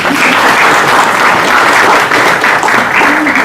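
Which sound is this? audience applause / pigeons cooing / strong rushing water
audience applause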